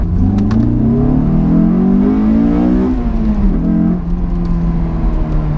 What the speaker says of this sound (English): These things just love being revved